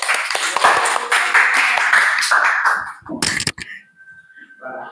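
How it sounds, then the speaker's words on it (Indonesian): A group claps hands in a dense burst mixed with voices, then the clapping breaks off into a few scattered sounds and quiet. "Baik, tepuk tangan."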